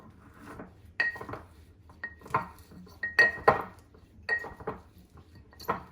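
Fresh mint leaves muddled in a jar for extract, with a series of close, sharp clinks and knocks against glass at irregular intervals and soft rustling between them.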